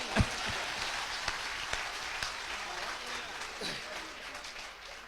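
Audience applause at a Hindi comedy poetry show, a soft, steady wash of many hands clapping at a distance, continuing throughout with a few sharper claps standing out near the start.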